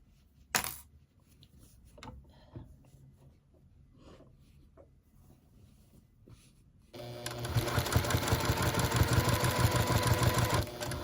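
A Juki sewing machine stitches through a quilt, starting after a few faint clicks and handling sounds, then running in a fast, steady, close mechanical chatter for several seconds.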